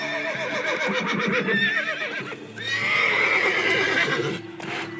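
A horse neighs loudly and close, a long quavering whinny rising and falling, with a shorter snort-like call at the end.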